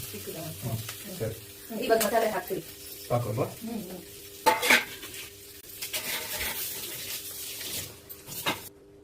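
Fish fries in oil in a home kitchen pan while someone stirs and scrapes it. Sizzling and utensil clatter run underneath someone talking.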